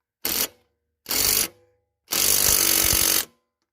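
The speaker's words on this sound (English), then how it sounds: "Then you want to use your impact on it. You want to tighten it up." An impact driver tightens a bolt on a lawn mower in three loud, close bursts of rapid hammering, two short and one longer, separated by brief silences.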